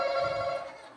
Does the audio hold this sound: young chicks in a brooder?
no